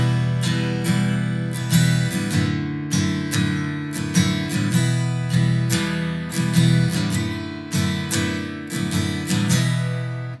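A beginner-level acoustic guitar strums two simple chords in a bouncy shuffle swing rhythm, with muted, choppy strokes that repeat steadily and close up, and no one speaking.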